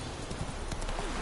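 Roach, the horse in The Witcher video game, trotting with quick rhythmic hoofbeats over a dense, noisy game soundtrack, faint and brief.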